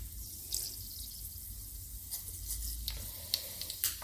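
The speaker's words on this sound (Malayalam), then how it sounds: "കടുക് ഇട്ട് കൊടുത്തു." Mustard seeds sizzle and start to pop in hot coconut oil, a close steady hiss with a few sharp crackles scattered through.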